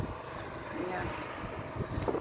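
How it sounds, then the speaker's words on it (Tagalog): Wind buffets a microphone at a high lookout on the seafront at Fahaheel, a steady, fairly faint low rumble that holds for a couple of seconds with no one speaking. "Mahangin dito sa taas"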